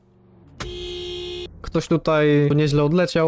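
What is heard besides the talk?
car horn of a BMK car in Roblox video game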